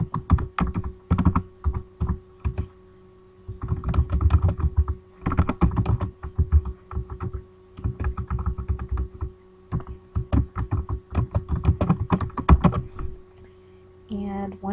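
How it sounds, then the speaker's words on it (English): Typing on a computer keyboard in bursts of rapid key clicks separated by short pauses, close and clear, with a faint steady hum underneath and no voices. "I can start typing my text."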